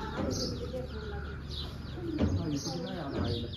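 Birds chirp and coo intermittently in the background while people talk nearby.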